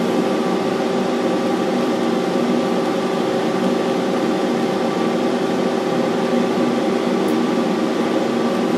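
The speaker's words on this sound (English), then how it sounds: "I'll pull the trigger, and I'll feed the wire through the full 15 foot of lead." Longevity Arcmate 205P pulse MIG welder feeding wire through its 15-foot lead, a steady, even mechanical hum with a continuous whirring drone throughout, close and unbroken, no speech.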